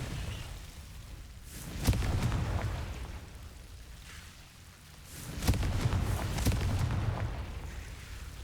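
Confringo fire spell cast in Hogwarts Legacy, two loud fiery bursts a few seconds apart, each with a sharp crack followed by a rumbling, crackling roar that swells and fades.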